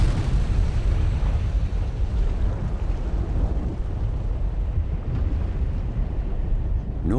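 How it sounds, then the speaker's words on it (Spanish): Stromboli volcano erupting, throwing out lava blocks and ash, heard as a continuous loud deep rumble and roar with buffeting wind, steady throughout with a few faint bursts near the end. "El volcán expulsa continuamente bloques de lava y ceniza."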